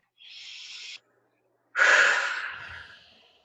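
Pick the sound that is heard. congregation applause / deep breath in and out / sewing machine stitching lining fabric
deep breath in and out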